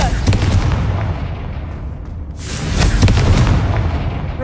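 A Confringo spell blast in Hogwarts Legacy, a loud booming explosion with a rumbling roar that swells again partway through, close and heavy.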